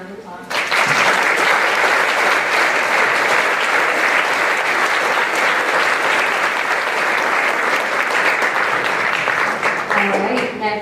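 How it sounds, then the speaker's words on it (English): A loud, sustained round of crowd applause for junior leadership graduates at a graduation ceremony, dense clapping that starts abruptly and holds steady for about ten seconds before easing off. "Let's give them a round of applause."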